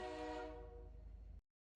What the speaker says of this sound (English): You could have sworn you just heard a train horn.